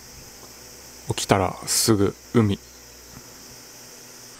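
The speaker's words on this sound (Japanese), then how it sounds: "この辺山ってこともあってセミが鳴いて起こしてくれました。" Cicadas drone steadily in the background near the sea and mountains in midsummer, a high, constant buzzing that continues under a man's short spoken remark.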